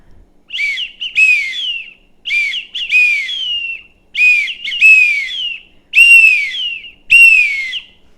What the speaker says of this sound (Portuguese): Esse aqui é um apito simples, bem até você pode comprar em casas de festas